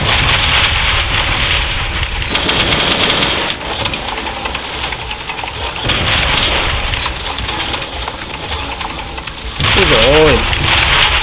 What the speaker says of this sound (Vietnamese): Súng máy này bắn kinh quá.